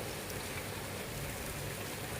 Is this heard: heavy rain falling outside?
yes